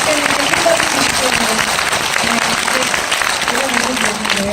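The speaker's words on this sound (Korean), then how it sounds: "다시 한번 박수 주십시오, 여러분." Audience applause at a talk concert, a steady broadband clapping that fills the whole stretch with no clear break, fairly loud and close, with a faint voice showing through.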